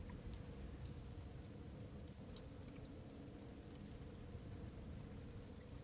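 Rain seeps and drips inside a cave in the video game Rain Spirit: Code Breaker, giving a faint, continuous patter with occasional small drip ticks over a soft, steady wash.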